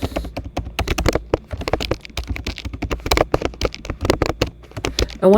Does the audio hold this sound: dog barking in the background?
no